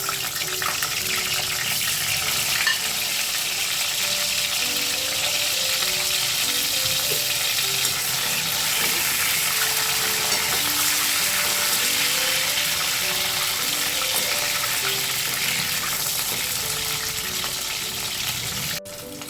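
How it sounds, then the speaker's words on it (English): Mushrooms deep-frying in hot oil for a second fry give a steady, loud, close sizzle and bubbling that runs unbroken throughout, with faint background music. "now we'll go to the oil again for the second fry"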